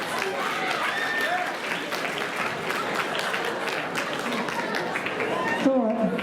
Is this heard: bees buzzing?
no